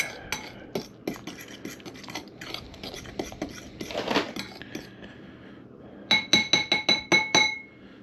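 Eggs and cheese being stirred in a pan with a utensil, giving close, irregular metal scrapes and clinks, with a quick run of sharp taps near the end.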